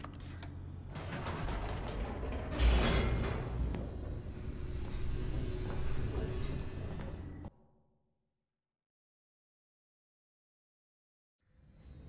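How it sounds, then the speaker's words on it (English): An elevator in The Stanley Parable video game descends with a steady mechanical rumble and creaking whir that runs loud for about seven seconds, stops abruptly into silence, and then starts up again faintly at the end. "The elevator raced downward, plummeting towards an unknown fate."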